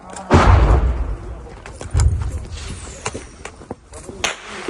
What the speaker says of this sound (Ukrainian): стріляють, стріляють.